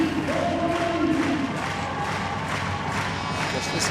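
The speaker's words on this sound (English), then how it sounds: "Just listen to that crowd as she does her lap of honour." A stadium crowd at an athletics world championship in Lyon cheers through an athlete's lap of honour, a sustained roar of many voices with rising shouts, loud and continuous throughout.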